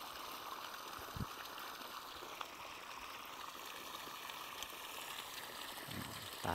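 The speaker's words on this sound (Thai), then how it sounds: "น้ำไหลใช้ได้เลยนะฮะ" Water runs from the outlet of a solar-powered pump in a steady, faint rushing hiss with no pauses. A couple of small splashes are heard near the start and the end.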